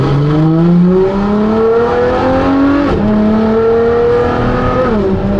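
A Ferrari LaFerrari's loud, raspy straight-pipe exhaust climbs in pitch through several manual gear shifts on an empty road, each upshift dropping the tone before it rises again.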